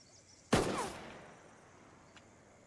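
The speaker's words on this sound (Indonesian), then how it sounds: "Harry yang gabut, dia pun ajak si Jonah buat main belajar nembak" A film scene of shooting practice has one loud, close gunshot with a long echoing decay, and a second shot starting just as the clip ends, in an otherwise quiet setting.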